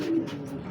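A pigeon gives a short, low coo nearby while pigeons feed alongside chickens on a rural farm, a single soft call with no talking.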